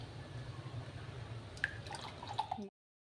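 Fruit custard pours into a bowl as a soft, wet stream, with a few drips and splats near the end before cutting off abruptly.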